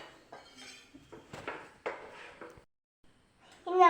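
A plate handled in a home kitchen, a series of light clattering knocks and scrapes of dishware and cutlery, then a pause and a brighter ringing clink at the end.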